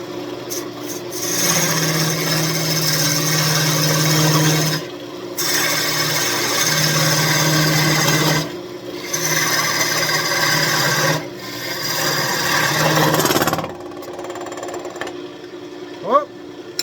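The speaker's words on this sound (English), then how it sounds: "So I have a parting tool, and we're going to make a part here and here, and we'll remove this off the lathe." A parting tool cuts into an old walnut desk leg spinning on a wood lathe, giving loud rasping scrapes in several long bursts with short pauses between, then a quieter stretch near the end.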